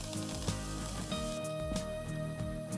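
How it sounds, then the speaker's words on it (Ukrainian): Hake fillets sizzle and spit in a hot pan, a steady crackling hiss with small pops, close and fairly quiet. "Викладаємо рибу. Смажимо."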